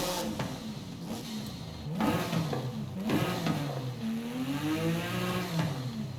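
A Porsche 911 Turbo S engine in Forza Horizon 5 revs and accelerates steadily, its pitch rising and falling through gear changes, loud and continuous without any talking.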